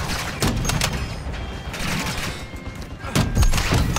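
Gunfire in the shooter Call of Duty: Modern Warfare: a series of sharp shots, some close together and others spaced apart, rings out over busy in-game background noise, with no talking.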